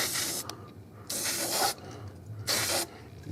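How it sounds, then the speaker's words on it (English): Aerosol lubricant sprayed in three short hissing bursts onto the air control lever of a Jotul F600 Firelight wood stove, close and fairly loud with brief quiet gaps between. "Just spray in there."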